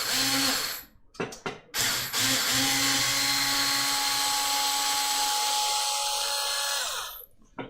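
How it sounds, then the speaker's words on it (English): A Ryobi power driver revs in a few short bursts, then runs at a steady high-pitched whine for several seconds before winding down, close and loud with no talking. "I got this fancy driver from Home Depot."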